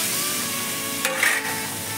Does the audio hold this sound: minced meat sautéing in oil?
yes